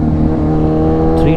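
A loud, steady engine drone dominates from close by, fitting an Apache RR 310 motorcycle ridden past on the road, with a constant rumbling tone and little change across the moment.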